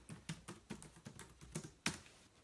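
Fingers tap a computer keyboard in a quick, uneven run of close, crisp keystrokes, one harder strike standing out near the end, with no voices over them.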